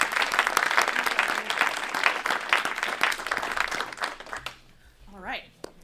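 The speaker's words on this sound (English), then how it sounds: "can we have a round of applause for the 8 folks that are putting their names out here this evening?" Round of applause for eight select board candidates at a town forum in Hardwick, a crowd clapping steadily for about four seconds before it fades and a voice begins speaking.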